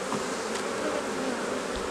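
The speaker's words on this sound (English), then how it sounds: "A lot of the workers, like the older bees, are on their foraging flights." A dense, continuous hum of many honey bees buzzing close by at an open hive, steady and unbroken, with no voices.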